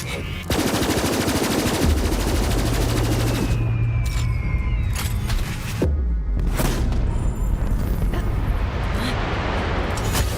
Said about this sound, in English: Shoot down the moon.